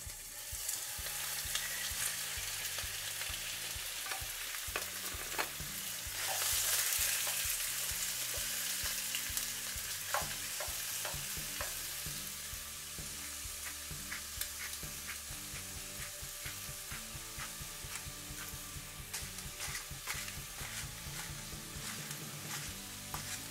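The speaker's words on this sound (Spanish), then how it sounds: "En aceite bien caliente voy a agregar 6 piezas de pollo cortadas en cubitos." Diced chicken leg and thigh pieces crackle and sizzle steadily in very hot oil, loud and close, with scattered pops and occasional scraping stirs throughout and no voices.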